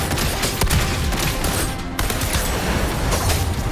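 Rolling bursts of gunfire in Wuthering Waves, a dense, steady barrage of shots with a brief dip midway, loud and continuous throughout.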